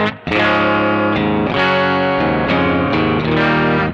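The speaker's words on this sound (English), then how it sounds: "I have to say the back pickup sound on this is glorious." Distorted chords ring out from a Yamaha Revstar RS502 electric guitar on its P90 bridge pickup, several bright, attacking strums sustaining close and loud.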